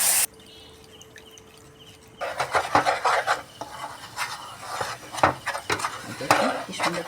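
A lid goes onto a cooking pot holding tamarind water while doi bora is being made, giving a sharp clank followed by a run of scraping, rattling kitchen-utensil noises up close.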